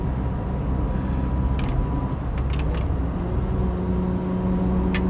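A Mazda RX7 with a Wankel rotary engine idles close by, a steady low rumble with a few sharp clicks and rattles over it.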